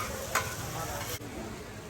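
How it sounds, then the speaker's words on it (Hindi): Chicken pieces deep fry at a street food stall in Bhatiyar Galli, Ahmedabad, with a steady, dense sizzle of hot oil and a brief sharper clatter early on. "चिकन फ्राई हो रहा है।"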